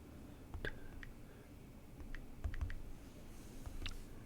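Quiet, sparse clicks of keys being pressed on a computer keyboard while a verification code is entered, a handful of soft taps spread over a few seconds against low background hiss.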